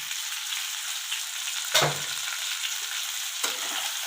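Taro stolons stir-fried with salt and onion in a pan: a constant bright frying sizzle broken by two stirring scrapes, the first louder and longer than the second.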